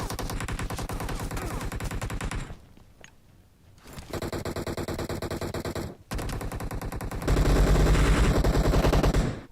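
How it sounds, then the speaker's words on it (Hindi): Rapid automatic gunfire in the mobile battle royale game BGMI, loud dense bursts rattling out in long runs, broken by a brief quieter gap and a short pause before a heavier, louder burst near the end, with no talk. "जिस हिसाब से गोलियां चल रही है"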